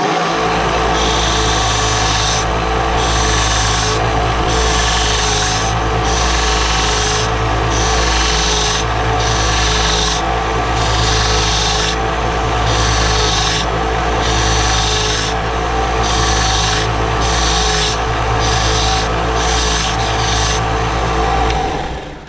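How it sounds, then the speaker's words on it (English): A lightsaber body section is sanded by hand in long, rhythmic rasping strokes, loud and close, with brief pauses between passes and no talking. "So we'll do a little more sanding."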